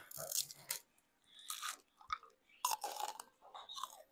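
Close, crisp crunching bursts of someone chewing crunchy Chipotle food, in irregular bites separated by short quiet gaps.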